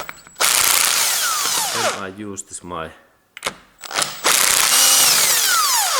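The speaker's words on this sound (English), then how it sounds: "I can also use my electric drill driver" An electric drill driver with a socket fitted whirs in loud, sustained runs close by, pausing while someone speaks briefly before it spins up again, while replacing engine mountings.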